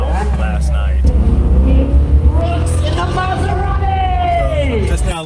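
A Maserati's engine rumbles loud and close, its pitch rising and falling as it revs, with chattering voices and crowd noise mixed throughout.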